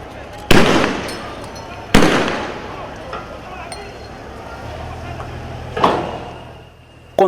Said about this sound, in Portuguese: a primeira comunicação foi interrompida pelos disparos que não cessavam.